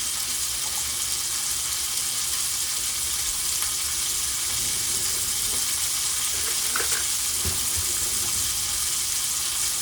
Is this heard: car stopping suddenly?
no